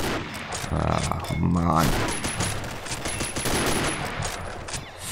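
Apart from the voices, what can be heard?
rifle gunfire in the video game Combat Arms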